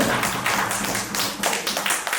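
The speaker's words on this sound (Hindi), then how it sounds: "तो जरा एक बार जोर से तालियां बजाकर बताइए" Audience clapping loudly and steadily at an annual poetry festival's opening session in Prayagraj, a dense continuous patter of many hands close by with no voices over it.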